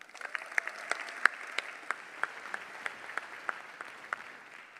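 A small audience at a sports hall of fame banquet claps for scholarship athletes, soft and somewhat distant, with a few sharper individual claps standing out at a steady pace.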